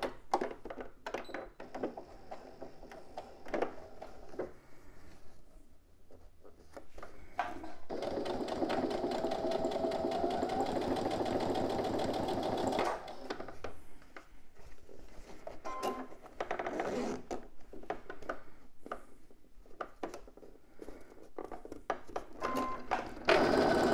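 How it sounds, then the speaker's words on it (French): A sewing machine stitches fabric along an earlier seam line, starting from the corners. Short bursts of stitching alternate with pauses and handling clicks, with one long steady run in the middle, fairly quiet and close. "je vais suivre tout simplement ma précédente ligne de couture et je couds pareil à partir des coins de propreté"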